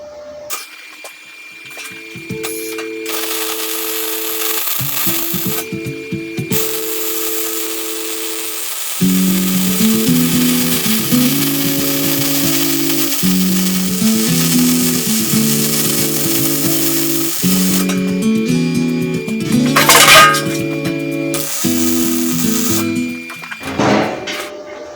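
Welding a skin tank baffle for a narrowboat, a loud, close electric buzz and crackle running in long bursts separated by brief pauses.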